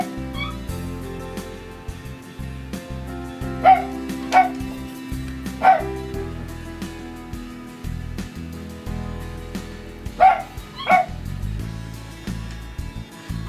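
A dog outside barks repeatedly to be let in, several sharp, spaced barks and yips over a steady indoor background hum, fairly close and clear.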